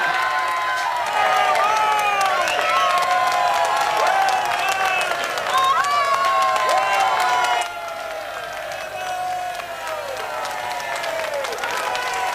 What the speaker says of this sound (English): I do declare, they're cheering me.